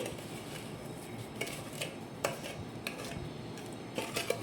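Chili powder being stirred by hand into oil-coated raw mango pieces for avakaya pickle, with soft clinks of a utensil against a metal vessel and scattered taps over a quiet, steady background.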